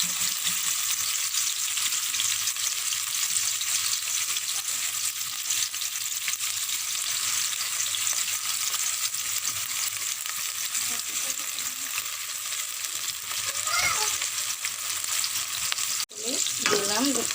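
Chopped onions frying in a pan, a dense steady sizzle that holds throughout, close and fairly loud, with a couple of faint knocks near the end and no clear speech.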